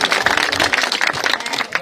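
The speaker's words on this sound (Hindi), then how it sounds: "एक बार जोरदार तालियों से अभिनंदन और स्वागत" A village gathering of the Jogi community breaks into dense, continuous clapping to welcome a donor, with no lull across the short burst.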